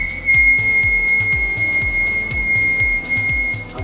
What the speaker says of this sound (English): I'm whistling at about 70 decibels.